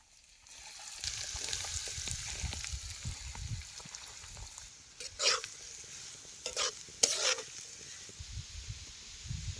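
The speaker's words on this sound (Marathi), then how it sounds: "आता तेल चांगलं कडले ह्याच्यात एक चमचे जिरे टाकायचं आता ते बारीक चिरलेला कांदा बियात घालायचा" Cumin seeds and finely chopped onion fry in hot oil, giving a soft, steady sizzle with occasional brief scraping stirs, fairly quiet and close with no talking.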